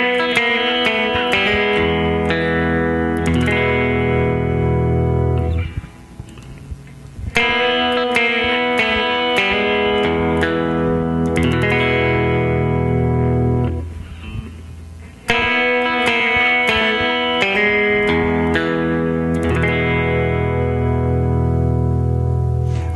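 A guitar plays the fast ending run of a rockabilly tune, loud and close with bright, twangy repeated phrases in three bursts split by short pauses, and no voice.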